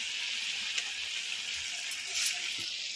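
Tala pitha frying in very hot oil, a steady bright sizzle with small bubbling pops, close and fairly quiet, with no talk.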